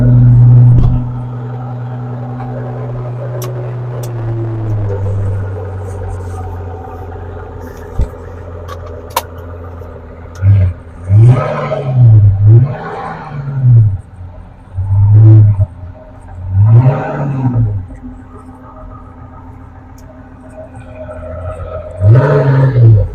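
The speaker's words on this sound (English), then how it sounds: "let's drive the car" A Pagani Huayra Roadster sports car idles with a low steady drone, then its engine revs sharply in a series of loud, rising and falling surges, close and dominant, during driving.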